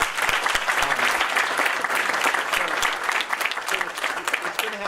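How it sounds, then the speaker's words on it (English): Collective audience applause for a panel of speakers at a virtual reality forum, dense even clapping from a seated crowd, steady throughout the short stretch with a few sharper claps standing out. "give a collective applause for these amazing people"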